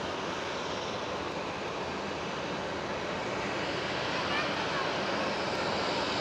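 A KLM airliner arriving at Schiphol airport roars steadily and loudly throughout, a broad continuous engine rumble with no clear breaks and no voices over it.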